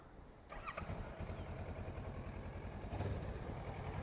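A 2014 Kawasaki Versys motorcycle engine starts up with a short starter whir, then settles into a steady, low idle rumble that holds close and even, with no voices.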